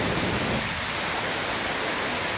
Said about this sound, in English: now we're coming into our lovely waterfall area